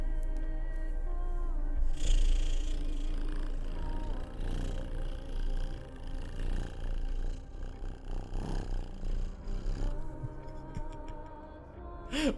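A person imitates a cat's purr with a low, continuous rumbling vocal drone that holds steady for several seconds, close to the microphone, with faint game sounds in the background.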